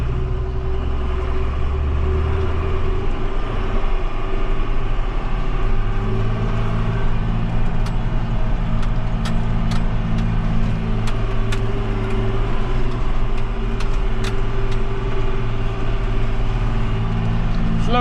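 A tractor idles steadily with its PTO engaged while hauling a lightly loaded manure spreader, a constant low engine drone with a few brief clicks and rattles over it throughout.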